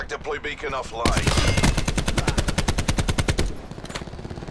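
An ICR rifle in Call of Duty Black Ops 4 fires a rapid, evenly spaced burst of loud, sharp shots lasting a few seconds, preceded by brief game sounds and followed by a quieter tail.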